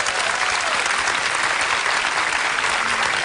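Audience applause welcoming a Dutch musician-comedian onto the stage at a televised music show, a dense, steady clapping from a large crowd that fills the whole moment at full strength without letting up.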